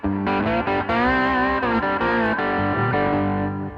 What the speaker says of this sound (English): if you're using a slide, you get this kind of